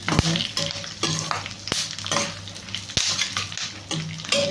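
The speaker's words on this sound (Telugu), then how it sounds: "చూసారు కదా ఎంత ఫాస్ట్గా ఫ్రై అవుతున్నాయో" Vermicelli fries fast in a hot pan with a steady crackling sizzle, broken by repeated scraping stirs and sharp clicks of a spatula on metal.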